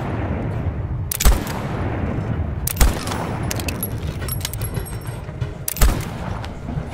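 Gunfire in the train-combat game Voidtrain: three sharp, loud shots spaced a second or more apart, each cracking out over a steady rumbling mechanical background with no voices.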